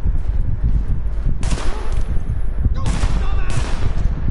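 Gunfire in a Tom Clancy video game: loud, close bursts of rapid shots in several sharp volleys, with continuous crackling game noise between them.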